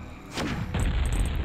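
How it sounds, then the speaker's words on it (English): A grenade detonates in the video game The Dead: Evil, a single loud, close boom with a deep rumbling tail that stays heavy and low after the initial blast. "can I blow this open with a grenade?"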